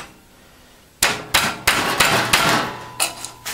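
Hammer blows ring out on sheet metal clamped in a nearly 30-year-old metal brake, about six sharp, loud metallic strikes at an uneven pace, each leaving a bright clanging decay.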